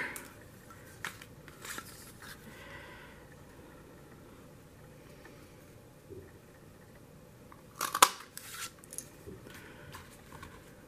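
Scissors snipping paper for a handmade Thinking of You card, a few faint, scattered cuts and light rustles in a quiet room, with one sharper snip near the end.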